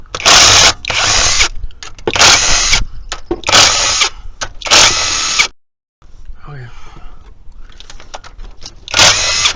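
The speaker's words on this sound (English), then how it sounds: "That back one, you're gonna have to use a ratchet." Bursts of a power tool or ratchet running on bolts during a teardown of a 1996 Jeep V8 in a junkyard, loud and close, in repeated short runs with a brief pause midway.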